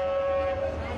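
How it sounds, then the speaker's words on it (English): A train horn blares as a train approaches a railway crossing in Egypt, a steady sustained tone held for the whole moment with rumbling rail noise beneath. "A train is coming."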